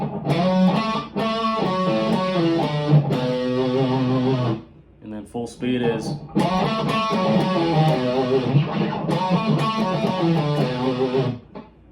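A distorted electric guitar plays the fast, chugging intro riff of a song slowly, with a short pause in the middle where a voice briefly speaks before the riff resumes.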